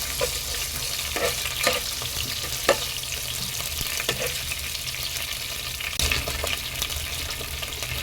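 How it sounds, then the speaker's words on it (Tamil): Chana dal frying in hot oil for lemon rice, a continuous close sizzle with scattered sharp pops and occasional stirring clicks, no voices. "பாருங்க, கடலைப்பருப்பு பொரிய ஆரம்பிச்சிருச்சு"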